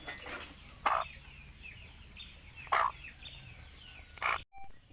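Free-range village hens and a rooster let out three short, loud cluck-like calls spaced a couple of seconds apart over a steady background hiss.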